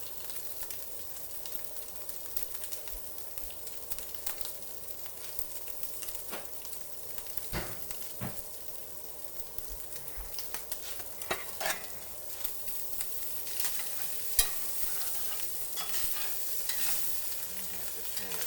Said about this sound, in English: Throwing a little bit of butter.